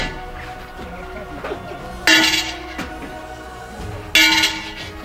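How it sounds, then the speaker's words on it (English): A WW1 trench gas alarm bell in the Cavan County Museum trench display clangs in two sharp, loud bursts, each ringing briefly and decaying over a low background murmur. "As soon as the gas bell sounded"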